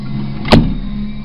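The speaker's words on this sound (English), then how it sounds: "Gear coming down slowly," A retractable landing gear on a model aircraft gives one short, close electric whir as it lowers, with a steady low hum before and after.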